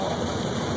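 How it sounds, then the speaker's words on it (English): Rain falls in a steady, dense hiss of droplets, constant and unbroken across the short moment, with no voices heard. "Right now it's just raining."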